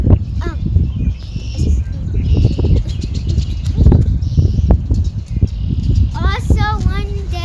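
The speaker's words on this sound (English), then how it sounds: "and all the birds out there" Birds chirp and call at a lake park nature center where geese gather, short bright calls scattered through steady outdoor noise with rustling, a livelier run of chirps near the end, and people talking over it.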